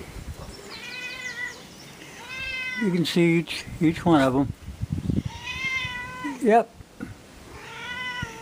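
A pet cat meows repeatedly and loudly close by in a home where cast-iron lead pots are being shown, its drawn-out cries alternating with someone talking to it.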